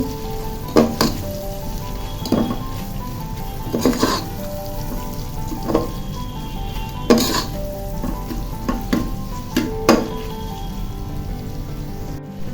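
Cabbage and capsicum for Chinese fried rice are stirred in a hot pan with salt. A loud steady sizzle runs under repeated sharp scrapes and knocks of a spatula against the pan at an uneven pace, with no talking.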